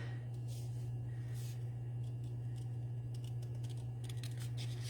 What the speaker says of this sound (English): And I'm just going to run my snips